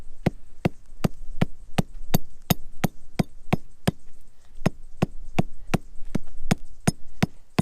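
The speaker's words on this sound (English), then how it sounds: "This is hammering right into a rock" Sharp metallic hammer strikes on a tent peg driven into rock ring out in a fast, even rhythm, about two per second, close and crisp against quiet outdoor background.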